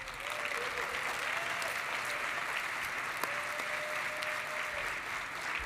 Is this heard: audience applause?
yes